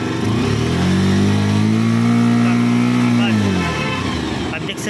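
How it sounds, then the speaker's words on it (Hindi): A Bajaj Pulser 150 cc BS3 motorcycle, whose battery is not charging, revs up from idle, its engine note climbing and holding for a few seconds, then dropping back, loud and close. "तो बाइक को थोड़ा सा पिक अप दो।"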